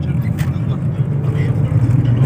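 A car driving along a road near Lokhra Chariali in Guwahati, on a light-traffic day during Vishwakarma Puja, gives a steady, close, low engine and tyre rumble that holds for the whole stretch.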